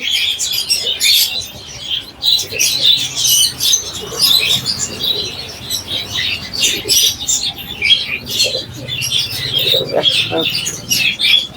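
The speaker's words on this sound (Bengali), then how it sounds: "এগুলো ফিঞ্চ আছে বেঙ্গলি আছে" Finches and Bengalese finches at a busy bird market: dense, overlapping high chirps and tweets from many birds close by, with faint murmuring and market bustle underneath.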